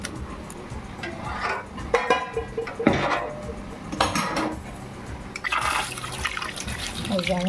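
Boiled flat beans being rinsed under running water in a kitchen, with clinks of a pot and utensils over a steady splash of liquid, and a few louder knocks partway through.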